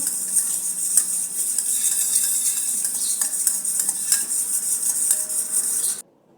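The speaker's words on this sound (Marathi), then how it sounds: "तेल आणि पाणी हे ते फेटून घ्यायचे आहे याचे टेक्स्चर बदलेपर्यंत आपल्याला फेटायचे आहे" Oil and water being whisked together in a bowl for bhavnagari sev dough, a steady continuous scraping and clinking of the whisk against the bowl, close and even for about six seconds before stopping.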